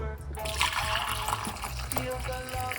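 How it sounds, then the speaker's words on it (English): Steeped clove tea pours off into a vessel with a trickling, splashing flow close by, partly masked by background music and voice-like tones. "Just pour it off."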